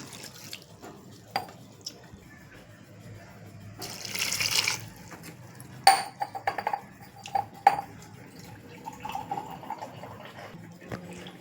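Water is poured in short splashing bursts into a pot of soaking dal and spinach, with quiet clinks of utensils and faint sounds between pours.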